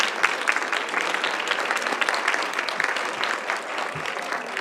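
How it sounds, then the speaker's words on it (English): Audience applause at a city council meeting, sustained, even clapping from a roomful of people throughout the clip, with no speech over it. "Let's give him a big round of applause of all the work they have done."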